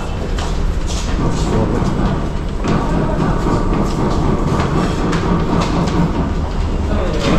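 A train rumbles at a busy railway station platform near Dakshineswar, a loud, continuous low roar with rail clatter. Faint voices sit beneath the steady din throughout.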